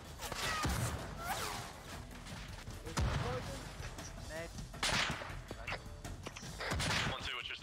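Bursts of video-game gunfire and a frag grenade blast during a squad assault toward a barricade, sharp cracks and booms recurring through the clip under steady radio-style talk from several voices.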